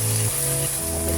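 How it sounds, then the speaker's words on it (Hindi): Potatoes added to spinach frying in a pan for aloo palak give a steady, close sizzling hiss with no talk, over a low sustained musical drone. "अब हम इसमें आलू ऐड कर लेंगे। इसे भी साथ ही ऐड करके साथ ही भून लेंगे।"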